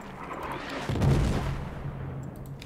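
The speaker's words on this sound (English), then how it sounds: "Oh, the artillery." Artillery fire in a video game: a single heavy boom lands about a second in, then rumbles and fades over a low, steady background, with no talking.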